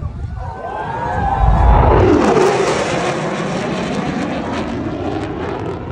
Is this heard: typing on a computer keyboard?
no